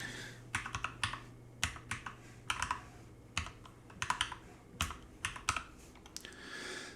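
Keys clatter on a computer keyboard while commands are typed into a Windows terminal for an SSH session, quick irregular bursts of clicks separated by brief gaps, close by over a low steady hum.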